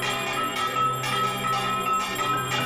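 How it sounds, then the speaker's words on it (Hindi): Handheld bells are rung at home as a gesture of thanks during the pandemic, a continuous bright metallic ringing with repeated strikes and overlapping tones, steady and fairly close. "घंटी बजा करके"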